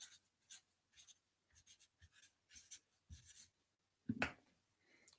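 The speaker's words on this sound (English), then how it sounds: "Because I will write it down." A pen scratches across paper in short, bursty strokes, close and fairly quiet, with a louder scrawl near the end.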